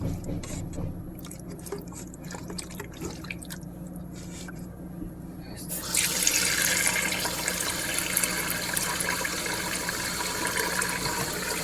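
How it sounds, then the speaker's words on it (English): Tap water runs into a pot being refilled while lamb bone broth is made. Faint drips and clinks come first, then a steady, full rush of water fills the rest. "So now, after I dump the water,"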